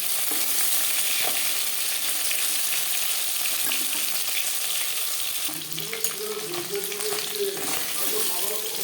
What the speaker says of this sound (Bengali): মাছ ভেজে নেবেন